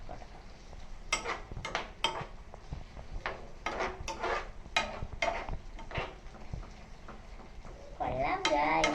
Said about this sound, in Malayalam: ഇതൊന്ന് നമുക്ക് നന്നായിട്ട് ഇളക്കി